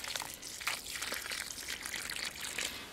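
Water poured from a watering can or scoop into a planting hole dug for tomato seedlings, a steady soft splashing trickle heard up close and continuing throughout.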